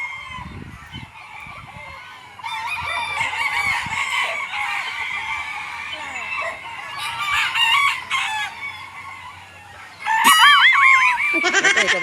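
Roosters and hens at a crowded chicken farm, with several loud crows overlapping and scattered clucking, the crowing growing denser and closer toward the end.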